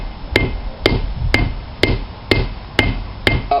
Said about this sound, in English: heat up the shank, cool out the very base, and then with a good flat-faced hammer